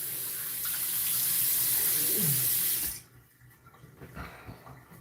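Tap water runs steadily into a sink for about three seconds as someone rinses off, then shuts off, leaving faint drips and small handling noises close by.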